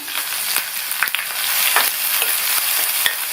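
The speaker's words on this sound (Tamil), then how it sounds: "லைட்டா இதை வதக்கி விட்டுட்டு 2 பீஸ் பெருங்காய பவுடர் சேர்த்துக்கங்க" Onions and green chilies sautéing in a pan give a steady bright sizzle, with a spoon stirring and scraping several times throughout, close and continuous, no voices.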